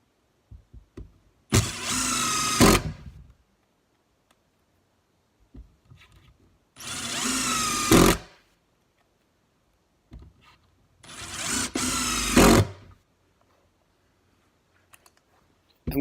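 Three bursts of a Ridgid brushless cordless drill spinning up at full speed, each lasting about a second, with short pauses and faint clicks between them.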